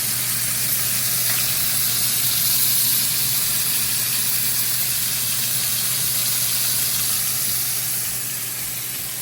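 Steak searing in a hot pan for surf and turf, a steady broad sizzling hiss with a low hum beneath, constant and close throughout.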